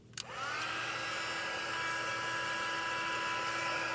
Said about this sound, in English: And I'm going to bring in my heat tool.